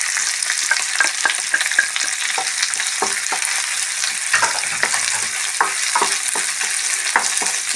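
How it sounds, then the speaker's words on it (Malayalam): Onions, shallots and crushed fennel seed frying in a pan for beetroot ulathu, a steady close hiss of sizzling oil broken by frequent clicks and scrapes of a stirring spoon, with no voices. "അപ്പോൾ ഇത് ഫ്രൈ ആവട്ടെ"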